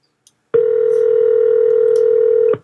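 A single long, steady ringback tone from an outgoing phone call sounds for about two seconds, loud and close, with no talk over it.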